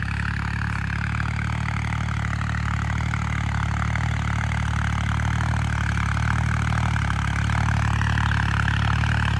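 A farm tractor running a chisel plough across a harvested rice field, its engine a continuous near and loud rumbling hum with mechanical clatter, unbroken and even from start to finish, with no voices.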